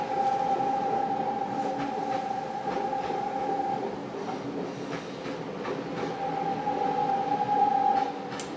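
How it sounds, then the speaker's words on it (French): An RER commuter train passes at close range with a steady loud rumble and rolling noise, rail squeal, and rhythmic wheel clicks. It runs the full length with no voices. "on va attendre que le RER termine de passer peut-être"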